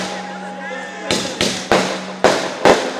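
Firecrackers crack at a temple wedding ceremony: five sharp, loud bangs in an uneven sequence after a steady tonal drone, each burst decaying quickly.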